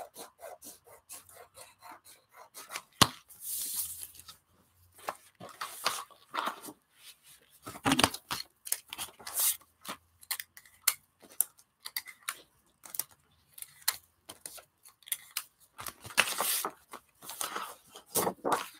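Intermittent rasping snips and rustles of scissors cutting paper, close up, coming in uneven bursts with quiet gaps between them and no talking.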